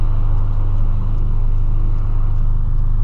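A VW Polo with a huge aftermarket exhaust drives along, giving a loud, continuous low rumble with steady road noise and no talking.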